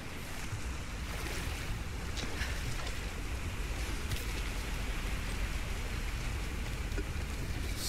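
Water rises in a Tomb Raider video game with a constant rushing, churning wash like surf or a torrent filling a chamber, steady and fairly soft throughout with no talking.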